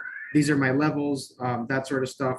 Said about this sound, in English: sorry, that's my cat that you hear in the back